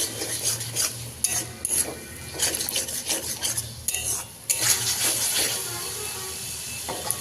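A spoon scrapes and stirs spice paste with tomato sauce in a pan for an aloo potol korma, in steady, close, repeated strokes with a soft sizzle beneath and no talking.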